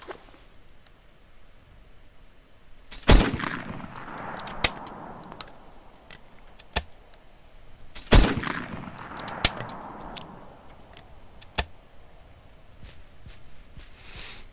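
Two sharp shotgun blasts at ducks in the video game BULT Hunting Simulator, a few seconds apart, each followed by a rolling echo, with faint clicks and quieter pops in between over a low outdoor ambience.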